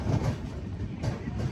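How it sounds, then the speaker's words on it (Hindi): Hemkund Express train pulling into Kathua railway station, a steady low rumble of rolling wagons with faint rhythmic clatter continuing throughout. "लगभग 8:20 पे पहुंची है भाई अपनी ट्रेन कठुआ रेलवे स्टेशन पे"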